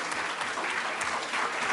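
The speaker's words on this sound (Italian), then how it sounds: "con l'applauso che facciamo adesso al professor Papaccio" An audience in a lecture setting applauds Professor Papaccio, a dense, even burst of many hands clapping heard close and steady throughout.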